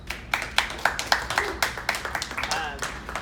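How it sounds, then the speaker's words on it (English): A small audience at a startup pitch event gives a short round of applause, sparse individual claps ringing out close and distinct over about three seconds, with a voice briefly heard near the end. "a round of applause"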